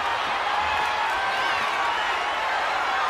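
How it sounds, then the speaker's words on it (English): Dense, steady roar of a large arena crowd during a WWE video game ambulance match between Cody Rhodes and an opponent, continuous and loud with faint cheers within the wash of noise. "What a raucous crowd here tonight"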